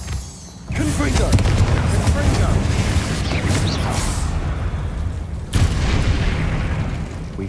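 A Confringo fire spell blasts during a spider fight in the Hogwarts Legacy video game, giving a loud booming explosion that sets off a dense rumbling burst. A second sharp blast follows near the end, with game sound and voice mixed in.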